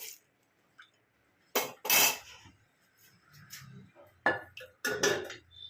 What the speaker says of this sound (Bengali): এবার আমি এটা একটু ঢাকা দিয়ে দেবো।